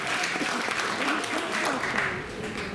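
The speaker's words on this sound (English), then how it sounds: "Give yourselves a big round of applause for being smart enough for being here today." Audience applause at a magic show at an amusement park Halloween event, a dense, even wash of many hands clapping throughout with a slight swell at the close.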